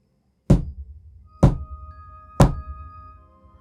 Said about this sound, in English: He was banging at my front fucking door.